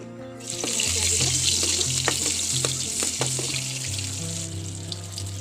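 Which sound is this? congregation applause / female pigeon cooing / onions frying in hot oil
onions frying in hot oil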